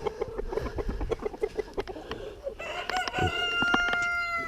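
Chickens cluck and a rooster crows close by in a backyard poultry run, with short repeated clucks leading into a sustained crow that rises toward the end, and no talking.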